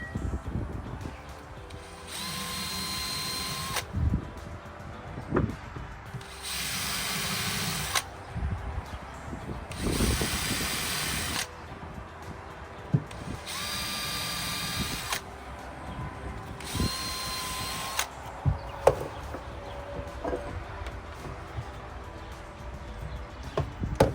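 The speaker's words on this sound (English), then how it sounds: "So let's get these drilled." A power drill whirs in five or six regular bursts of a few seconds each, drilling screw holes while building a custom staircase, with clicks and handling noises between them, close by.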